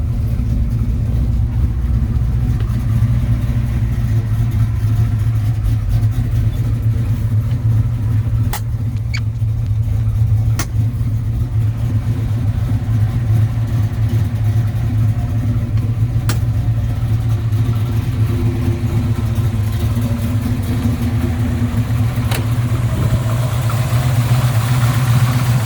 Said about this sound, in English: Motor's fairly fresh, runs real strong.